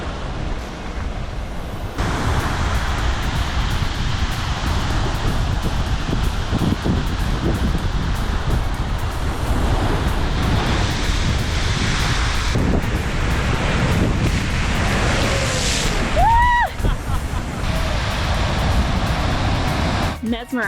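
Ocean waves crash and churn beneath the natural rock arch of Devil's Bridge in Antigua, a continuous loud roar of surf mixed with heavy wind buffeting the microphone, with a brief whistle-like tone near the end.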